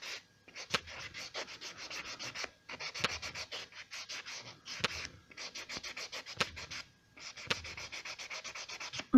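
Close, steady rasping strokes of a nail file across fingernails, coming in repeated bursts of rapid back-and-forth scraping separated by short pauses, with no talking.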